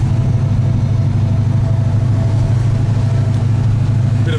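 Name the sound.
Ford GTHO Phase 3 tribute engine running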